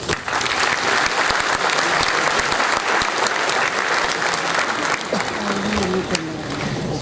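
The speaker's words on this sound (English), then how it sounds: "a loud round of applause." Loud, sustained applause from the audience at an Indian Navy band performance, dense clapping throughout that eases slightly toward the end, with a faint voice emerging near the close.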